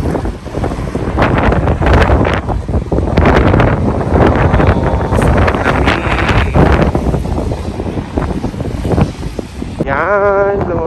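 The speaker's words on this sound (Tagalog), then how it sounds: "ang lakas ng hangin" Strong wind buffets the microphone outdoors in Copenhagen, Denmark, a loud, continuous rumbling roar that gusts steadily throughout with no clear pauses.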